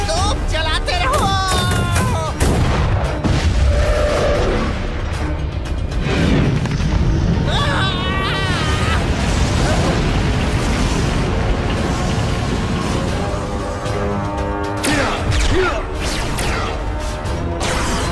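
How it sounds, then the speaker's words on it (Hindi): Cannon fire booms through a busy animated movie battle scene, with repeated heavy blasts and crashes mixed with music and voices speaking throughout. "तोप चलाते रहो।"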